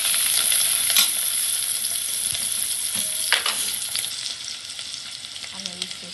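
Ginger paste fries in a pan with turmeric, a continuous bright sizzle with a few scraping stirs, close and fairly quiet, with no talk over it.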